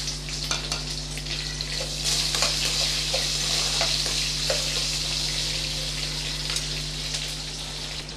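Chopped onion drops into hot oil for a Tamil brinjal thokku, giving a steady, close sizzle with scattered scraping clicks from stirring, no voices.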